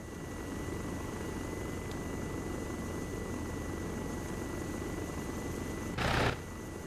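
A helicopter flying in a video game makes a steady, droning rotor and engine hum that carries on evenly throughout, broken by a brief loud burst near the end.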